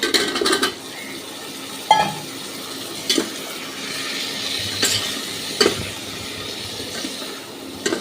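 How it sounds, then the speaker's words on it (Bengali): Potatoes being stirred in a pan of chicken curry: a soft sizzle with irregular scraping and clinking of a utensil against the pan, several sharper knocks standing out above the steady frying. "আলুটা দিয়ে 2-3 মিনিট নেড়ে নেব।"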